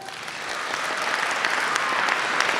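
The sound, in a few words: audience applause at school assembly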